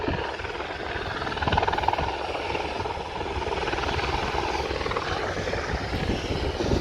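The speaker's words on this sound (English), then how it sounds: "We have this chopper hovering." A helicopter hovers and slowly descends to land near an airport, its rotor thudding in a steady, dense chop under broad engine roar, moderately distant and continuous throughout.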